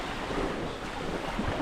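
A steady wash of ocean waves rushes and churns close by, with wind noise buffeting throughout.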